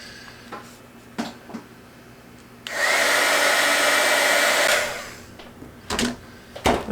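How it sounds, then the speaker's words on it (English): A heat gun blasts for about two seconds in the middle, a loud steady whooshing hiss, while it melts candy wax melts. Light clicks and handling knocks can be heard before and after it. "Okay, so see how handy it is to have a heat gun."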